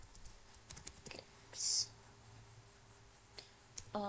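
Keyboard typing on a computer while entering a terminal command, a few soft scattered key clicks with a louder burst, faint and close, amid room hiss.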